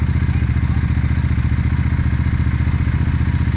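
A Chinese Benda motorcycle engine runs loud and close, a steady throbbing idle with rapid even pulses throughout.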